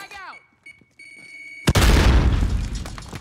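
A frag grenade goes off in Call of Duty Warzone: after quiet electronic beeps and tones, one sudden loud blast hits and trails into a long rumbling roar.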